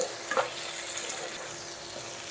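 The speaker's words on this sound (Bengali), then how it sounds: "দিয়ে দেব থেতো করে রাখা রসুন। ভালো করে ভেজে নেবো।" Crushed garlic frying in a pan with tomato hisses in a steady, close sizzle, broken by a few light stirring scrapes near the start and end.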